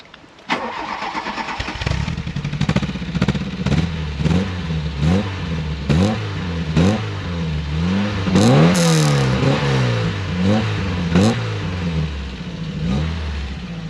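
A stock first-generation Volkswagen Golf GTI engine starts, then revs repeatedly, with a rhythm of sharp climbs and falls over a throaty idle, loud and close.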